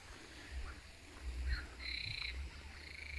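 Faint croaking from a toad somewhere in the distance at a campsite in Estonia, a few low calls over quiet outdoor ambience, with no one speaking.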